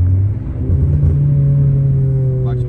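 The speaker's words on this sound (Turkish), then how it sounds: "Bak gaz dip gaz. 4500." Car engine held at full throttle near 4500 rpm, a loud steady drone with rising harmonic bands, recorded close from inside the car with faint voice murmur.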